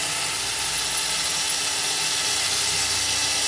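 A drill with a small 3 mm bit bores a hole during a U-tube installation, giving a steady, loud, continuous high whine with no pauses, close up and unaccompanied by talk.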